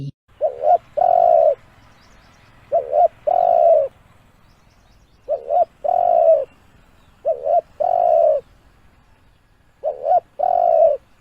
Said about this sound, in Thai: เสียงนก เขาใหญ่